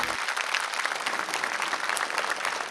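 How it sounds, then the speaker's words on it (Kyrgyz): Applause at an award ceremony for a Manas recitation competition: steady, even clapping from the audience, moderately distant and continuous. "Кол чабуулар."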